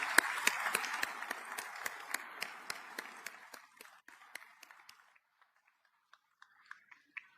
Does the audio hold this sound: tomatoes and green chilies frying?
no